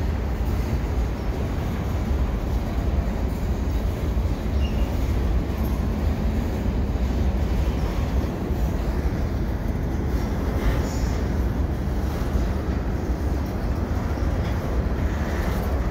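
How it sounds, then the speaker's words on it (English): Steady low rumble of a CN mixed freight train passing on the Butler Street Spur, constant and fairly loud throughout, with a faint metallic squeal now and then. "Here's that train crossing the Butler Street Spur"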